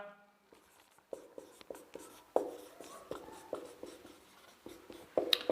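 Pen or chalk writes out a volume calculation by hand, tapping and scratching in short separate strokes, close and fairly quiet, with a few sharper taps toward the end.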